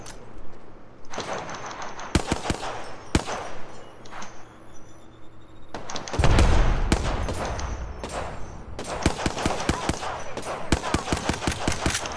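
Rapid bursts of video game gunfire crackle in a battle royale match, sharp volleys of automatic shots broken by short pauses and a heavy boom midway, loud and close throughout.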